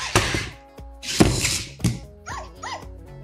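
A Silverlit Pupbo white toy robot dog gives a few electronic barks, sharp and close, separated by short thumps and small whimpering electronic tones.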